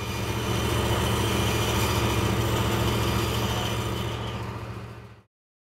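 A vertical bandsaw cuts around a curve in a school workshop, a steady loud droning hum that fades slightly before cutting off abruptly near the end.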